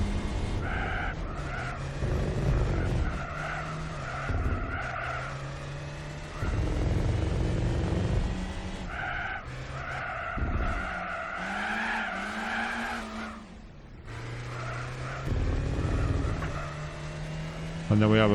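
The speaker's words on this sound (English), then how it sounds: "This has a very strange engine sound." Citroen Xsara racing around the Opera Paris circuit in Gran Turismo 4, with a loud, odd-sounding engine whine rising and falling and repeated tyre skids and squeals, close and continuous with brief drops in between.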